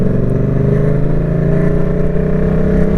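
Motorcycle engine held at a steady, loud, close drone with a strong low hum and a slight rise in pitch as the throttle is opened in second gear, with no talk.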